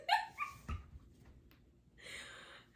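A dog gives a few short, sharp barks and yips near the start, then fades into quieter whimpering noise, heard in the background of a casual podcast conversation.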